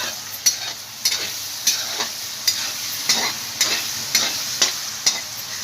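Onions fry with salt in a pan for palak paneer, a continuous sizzle broken by regular scraping strokes of a spoon about once a second, close and fairly loud with no talking.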